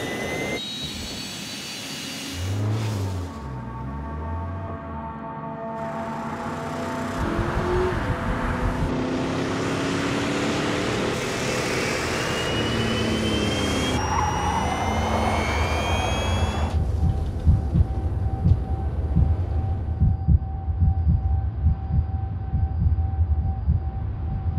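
A small jet engine of about 170 horsepower fitted to a flight suit roars steadily and loud throughout, a strong continuous rushing thrust with rising whine, building slightly in intensity toward the end.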